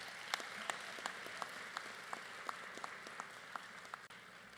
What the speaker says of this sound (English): let's take a moment to show our gratitude with a round of applause from the graduates to your support team